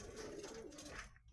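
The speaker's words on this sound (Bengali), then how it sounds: "ছেলে পায়রা প্রচণ্ড গন্ডগোল করছে।" Male breeding pigeons coo in a loft, a brief, faint, low murmuring coo heard close up with no talk over it.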